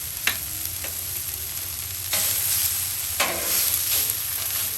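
Green onion whites with sweet yellow onion sizzling on a Blackstone flat-top griddle, a loud steady hiss with a few sharp spatula scrapes, close up and without any voices.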